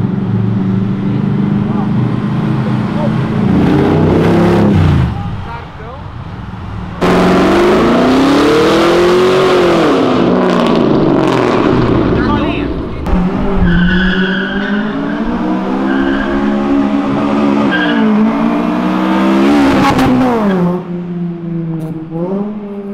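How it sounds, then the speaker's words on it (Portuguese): A Chevrolet C10 with a V8 engine roars hard down an avenue, loud and close, its revs rising and falling over long sustained pulls with tire squeal, and voices are heard at times. "Acelerou pra caralho, barulho pra porra. Saiu cortando de giro."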